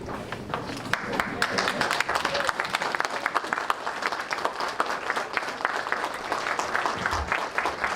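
A church congregation applauds steadily for several seconds during a pastor's ordination service, a dense wash of clapping with some voices mixed in.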